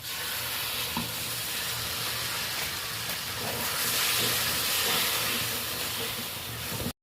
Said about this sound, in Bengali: তলাতে ধরে যাওয়ার ভয় থাকে তো এইভাবে নেড়ে